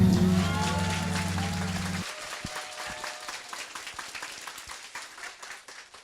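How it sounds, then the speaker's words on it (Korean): An audience applauds to welcome a lawyer to the stage. The clapping first sits under a loud tonal music sting, then carries on alone as scattered claps that slowly taper off. "큰 박수로 맞아주십시오"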